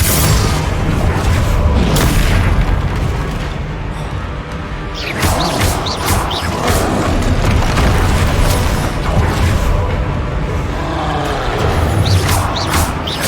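Repeated magical spell blasts and explosions from Hogwarts Legacy gameplay, loud booming impacts and crashes with whooshing bursts spread throughout, dense and continuous.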